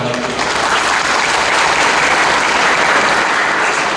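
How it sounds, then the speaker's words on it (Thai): Audience at a municipal community event in Nam Phong applauding the mayor, dense continuous clapping from a crowd, loud and sustained throughout with a brief voice at the start. "ปรบมือให้ท่านนายกหน่อย"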